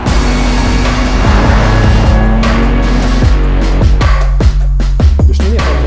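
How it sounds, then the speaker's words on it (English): A pre-production BMW M3 G80 drives at the Nürburgring, its engine loud and close with rising and falling revs and repeated gear shifts, the exhaust note sweeping through several pulls. "This is the new BMW M3, a pre-production vehicle."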